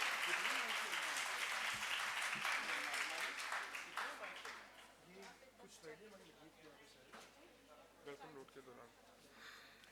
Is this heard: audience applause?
yes